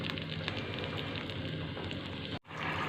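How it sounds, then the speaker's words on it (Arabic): A cup of vinegar mixed with water and the juice of a whole lemon boils in a pot on a stove, giving a steady, dense crackle and hiss that runs unbroken at close range, with a brief drop near the end. "هسيبها تغلي بقى على النار، وهزود معاكم شويه ميه وعصير ليمونه كامله"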